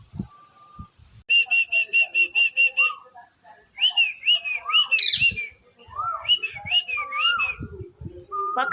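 Koels call near a large peepal tree. One bird gives a rapid series of seven clear whistled notes, and then more whistles answer back and forth in short rising phrases, close and loud.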